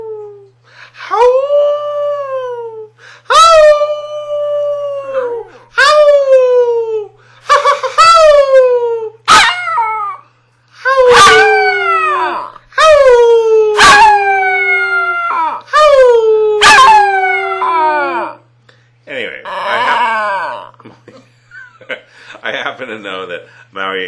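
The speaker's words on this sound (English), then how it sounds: "let's see if she'll give us a howl" A dog howls repeatedly in long, rising-and-falling wails, each howl separated by short pauses, close and loud, with a few softer whimpery notes near the end.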